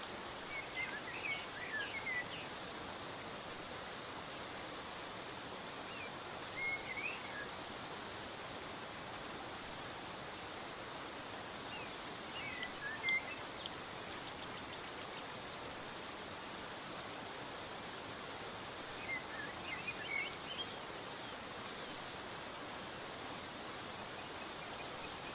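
Steady waterfall ambience for meditation, a broad, even rushing hiss of falling water that continues unchanged for the whole stretch, with faint occasional high chirps above it.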